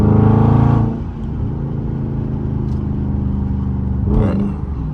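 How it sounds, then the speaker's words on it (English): A Dodge Charger Daytona 392 on a backroad revs loudly at the start, then settles into a steady, deep engine drone while driving, with a second brief surge of revving near the end. "I'm gonna let y'all hear the car."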